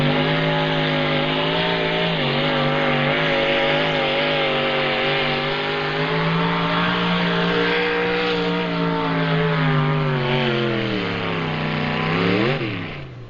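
A Chevrolet pulling truck at a 1995 NTPA tractor pull in Fort Recovery roars down the track, its engine holding a loud, sustained high-revving drone that rises and falls slightly before a final surge and drop in pitch.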